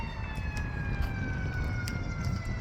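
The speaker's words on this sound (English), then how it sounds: "Now there's sirens and fire engines now" Emergency sirens from fire engines and a police car wail steadily in the distance near a hospital, their falling tones drawn out over a constant low rumble of traffic.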